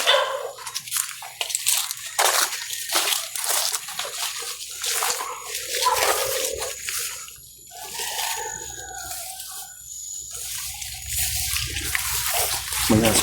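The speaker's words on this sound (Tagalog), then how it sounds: "May aso" A dog barks now and then amid splashing, rushing water, with a voice talking nearby.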